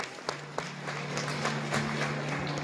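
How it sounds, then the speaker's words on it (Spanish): A crowd applauds a student at an end-of-school-year graduation ceremony in San Juan Lachao Pueblo Viejo, producing a dense, steady patter of many hands with a low electrical hum beneath it. "Fuerte los aplausos para ella."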